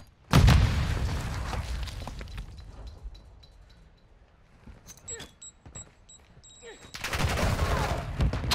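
Gunfire in Modern Warfare 2, a 2v2 bomb match: a loud Semtex grenade blast and burst of shots open, then sparse distant shots and game beeps follow before another heavy volley of fire near the end.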